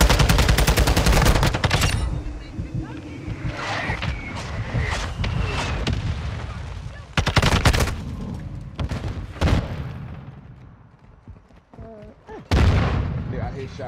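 Gunfire in Call of Duty: Modern Warfare II rings out at a shoot house, with heavy bursts at the start and again near the end. Scattered single shots and quieter stretches fall between them, and voices are heard throughout.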